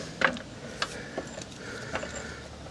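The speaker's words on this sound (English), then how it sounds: "And so we're going to jack it up, put it on jack stands, and go from there." A jack lifting the axle of a Jeep Gladiator, heard as faint, close ratcheting clicks spaced irregularly over a low background hum with no voices.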